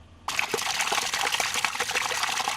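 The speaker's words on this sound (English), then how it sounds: "The water must be constantly circulating, simply flowing in and out of the field." Water flowing in and out of a rice field, a sudden start into a loud, steady rushing trickle with small splashy bursts, continuous and close.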